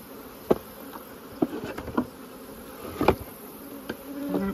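Honey bees buzz steadily around an opened beehive, a close continuous drone with individual bees zipping past the mic in brief louder swells, no talking.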